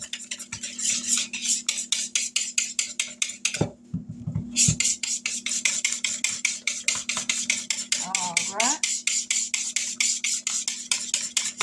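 A utensil stirring dumpling batter in a bowl for a chicken and dumplings casserole, a fast steady rhythm of scraping strokes, close and loud, with a brief pause midway and a low hum beneath.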